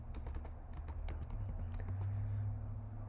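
Quick, uneven keystrokes clatter on a computer keyboard as Python code is typed, close and clear over a low steady room hum, with no voices.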